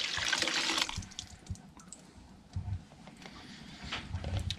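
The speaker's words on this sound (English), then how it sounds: "I'm putting in 1 litre of carb cleaner" Carb cleaner liquid pours into the water-filled tank of an ultrasonic cleaner, a gurgling, splashing stream that is loudest at first, then eases into softer sloshes and trickles close by.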